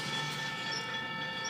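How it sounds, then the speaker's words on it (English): Ohio Central freight trash train rolling along an old railroad line, a steady continuous rumble with rail noise, close and alone without talk. "then the train heads down the old line"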